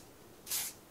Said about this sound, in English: It is just a room spray that I got at Walmart.